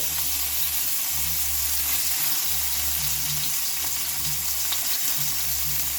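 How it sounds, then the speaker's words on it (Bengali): Steady, close frying sizzle of onions in hot oil in a wok, a continuous crackling hiss with faint low hum underneath and no talking. "এবার দেখো পেঁয়াজ দিলে আমি দিয়ে দিচ্ছি তেলের উপরে"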